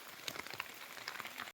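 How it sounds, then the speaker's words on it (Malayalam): Rain falling inside a forest, a dense steady patter of drops on leaves and ground, close and fairly faint, with no other sounds. "കാടിൻ്റെ അകത്ത് ഇങ്ങനെ സ്ഥലത്ത് വന്നിട്ട് കിടിലം മഴ"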